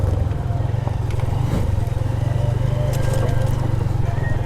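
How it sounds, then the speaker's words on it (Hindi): A motorcycle rumbles steadily as it rides over large rocks near Khuzdar, with a constant low engine drone and scattered knocks and clatters from the bike bouncing over the stones. "मेरी बाइक मुसलसल उछल रही है"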